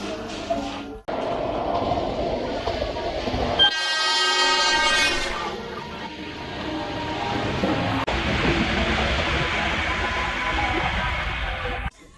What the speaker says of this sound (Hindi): हावड़ा रेलवे स्टेशन से 8:30 की पांचकुड़ा लोकल ने हमें 9:50 पर बागनान पहुंचा दिया।